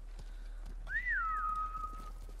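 A horse in the video game Ghost of Tsushima gives a single whistling, whinny-like call that rises and then slowly falls away, clear and moderately loud over quiet game ambience.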